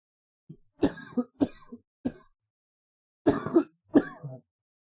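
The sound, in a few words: cough and throat clearing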